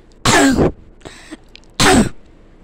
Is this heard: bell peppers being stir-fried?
no